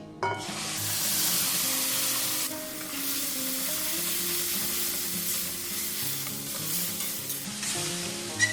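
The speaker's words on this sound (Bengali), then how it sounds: "এটা একটু কষে নেবো যতক্ষণ এর থেকে তেলটা ছাড়ছে" Ground spice paste with Kashmiri chilli powder frying in hot oil for a katla fish curry, a loud continuous sizzle with soft stirring scrapes throughout, no voices.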